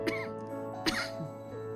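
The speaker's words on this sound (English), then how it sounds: "Still that damn cough." Two short coughs from a woman in the video game Into A Dream, spaced under a second apart, over a steady humming background tone.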